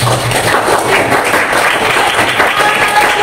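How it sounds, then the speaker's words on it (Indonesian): Students in an Indonesian eighth-grade science class clap for a classmate, a loud, dense burst of applause that holds steady throughout without pause. "kita beri tepuk tangan untuk Tiara."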